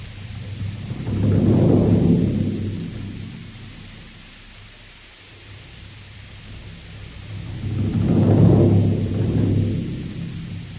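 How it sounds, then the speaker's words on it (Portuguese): Orchestral bass drum producing a deep, thunder-like rumble; two slow, swelling booms several seconds apart, each rising and fading gradually, with no voices. "A grande caixa, ou bumbo, vem diretamente das músicas militares. Ela produz um som grave, que evoca o trovão ou os canhões ao longe."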